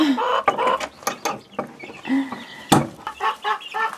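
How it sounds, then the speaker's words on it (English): Hens cluck near a coop during a chick move, the calls coming in quick uneven bursts alongside sharper squawks, fairly close and loud, with no talking. "Those hens are really wanting to come in here because they think this is their coop."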